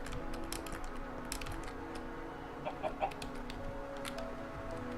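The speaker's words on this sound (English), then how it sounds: "I also hear a chicken." A chicken in the Minecraft video game gives a few faint, soft clucks in quick succession around the middle, over a steady game background hum with light keyboard tapping.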